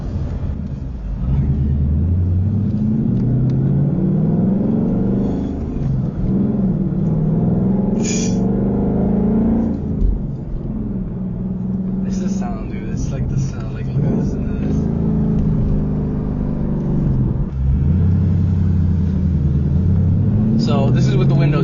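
A Ford Mustang GT S550 with a 5.0 V8 and aftermarket exhaust rumbles steadily from inside the cabin while driving, with swells of acceleration and someone talking over the engine for much of the time.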